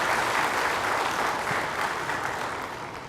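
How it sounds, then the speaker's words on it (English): Steady applause from a crowd, dense clapping holding an even level for a few seconds and tapering slightly at the end. "and we should applaud"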